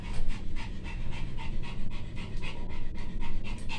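A fat half-Pomeranian dog pants heavily and rapidly after climbing stairs, a quick, rhythmic series of close, breathy huffs running without pause, with no talking.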